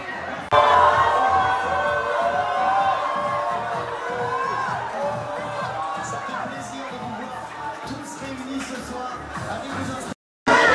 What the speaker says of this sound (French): Ils sont en train de huer.